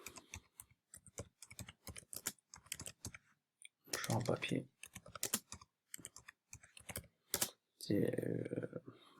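Typing on a computer keyboard while adding text to a form in LibreOffice, heard as quick bursts of close key clicks with pauses, alongside intermittent talk.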